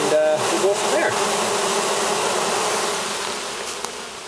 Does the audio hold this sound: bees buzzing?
yes